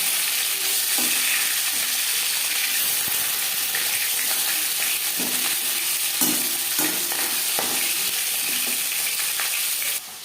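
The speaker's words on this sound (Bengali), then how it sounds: "একটা সাইজ ভাজা হয়ে গেলে অপর সাইডটা উল্টে দেবো" Katla fish sizzles steadily in hot oil, a loud continuous crackle with occasional clinks and scrapes of a utensil in the pan.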